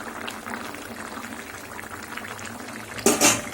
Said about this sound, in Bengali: এবার ওই ভাঙন মাছের ঝোল হচ্ছে ফুলকপি আলু দিয়ে।